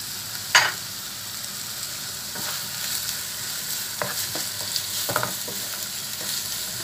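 Garlic, ginger and green chilli frying with onion in a pan for a dried anchovy chutney, giving a soft continuous sizzle with a few sharp clicks and scrapes of stirring. No one speaks.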